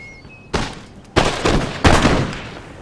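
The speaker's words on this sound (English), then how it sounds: "I've got one other unit here that's gonna get a couple of shots off" Three sharp musket volleys from a unit in a Napoleonic battle video game, loud and close, each crack followed by a short rumbling decay, spaced roughly half a second apart.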